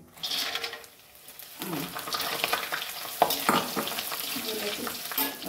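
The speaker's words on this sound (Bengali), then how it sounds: "এরকম মাখানাটা নিয়ে নিয়েছি, তেলের উপর দিয়ে দিচ্ছি।" Fox nuts (makhana) tipped into hot oil in a pan, giving a steady close sizzle with scraping stirs and a few sharp clatters, no talking.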